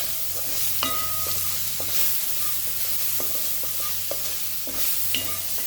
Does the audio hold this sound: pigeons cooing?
no